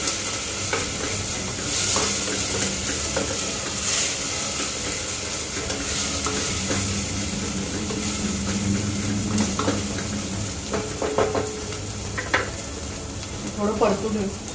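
Onions sautéing in a pan for soybean pulao cooked in a pressure cooker: a constant loud sizzle with repeated spatula scrapes and stirring knocks throughout.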